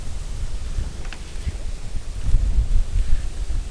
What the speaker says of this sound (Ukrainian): Такий холодний вітер.